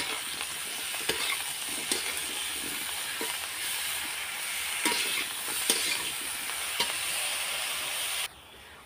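Eggplant stir-fried with turmeric in a pan, a loud, steady sizzle punctuated by regular scraping stirs about once a second, close up, cutting off abruptly near the end, with no talking.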